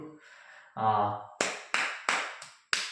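A person claps by hand after a brief burst of voice, giving five sharp, close claps at a fairly even pace.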